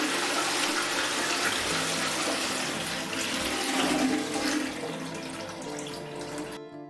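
A dual-flush toilet cistern flushing, its larger button releasing a bigger volume of water, 6 to 9 litres: a loud, steady rush and gurgle of water filling the clip alone, easing slightly near the end.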